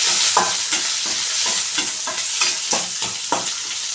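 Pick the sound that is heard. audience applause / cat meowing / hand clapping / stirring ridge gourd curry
stirring ridge gourd curry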